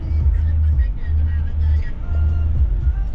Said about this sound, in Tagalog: Makasalubong natin yung tricycle.